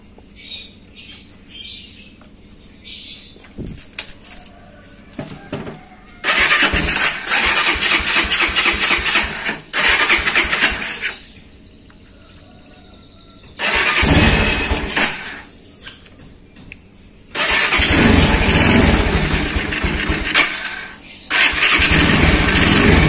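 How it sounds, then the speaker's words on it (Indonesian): A motorcycle engine with a flooding, leaking carburetor cranks and catches, then runs at a loud steady idle, cutting out and restarting a couple of times, close by. "langsung kita tes dulu kita nyalakan sepeda motornya"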